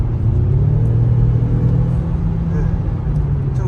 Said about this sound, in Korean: 좀 이렇게 가속을 하거나 RPM을 높여보면은 사운드가 되게 멋있게 나오네요.